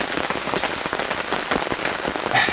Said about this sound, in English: It's raining way too hard for me to be outside.